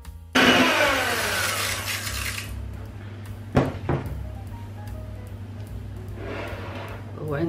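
Keto Swiss roll batter with baking powder and a pinch of baking soda being mixed: a loud, steady whirring burst for about two seconds, then a sharp clatter of a utensil against the bowl and quieter mixing noise returning near the end.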